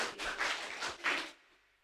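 A classroom of primary school pupils claps for group 2, several bursts of scattered applause that fade out into quiet near the end.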